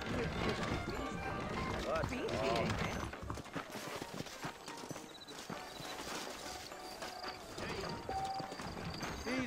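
Saddled horses trot through the frontier town of New Ulm in Red Dead Redemption, steady hoof clip-clop and an occasional whinny running throughout, mixed with music and voices talking over them.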